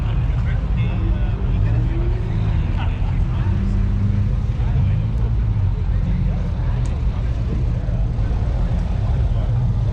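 A loud Infiniti car engine roars steadily as the car passes nearby at an outdoor car meet, with a deep rumble that persists throughout and people talking underneath.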